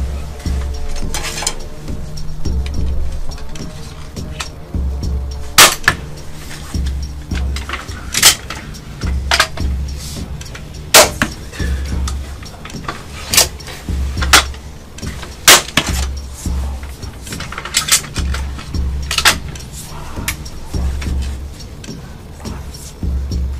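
A Cobra System Siege 300 crossbow and a Hoyt Podium-X Elite bow shooting arrows at a target 18 metres away, giving a series of sharp, separate snaps and thwacks spaced a few seconds apart over a low background hum.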